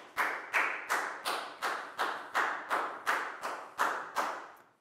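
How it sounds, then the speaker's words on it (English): Classroom applause for a student: about ten evenly spaced, crisp claps from a single nearby person, steady and rhythmic, with no talking. "High five and a big round of applause for Nadia, please, guys."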